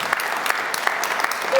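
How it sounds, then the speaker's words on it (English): Audience applause closing a start-up pitch session at the Rapid.Tech + FabCon 3.D event, a brief burst of steady crowd clapping with a few sharper individual claps standing out. "Your loud applause to finalize the session"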